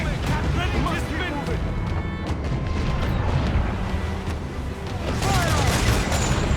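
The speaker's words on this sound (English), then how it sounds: "Mortar incoming!" Mortar fire and cannon booms in the naval battle game Assassin's Creed 4 Black Flag, loud bursts and rumbling explosions continuing throughout over ship noise, with shouting voices.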